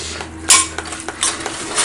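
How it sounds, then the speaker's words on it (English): Meat is stirred in a metal pot while it browns, with sharp utensil scrapes and clinks against the pot over a low sizzle and no talking. "We're gonna stir it. We're gonna try to brown the meat"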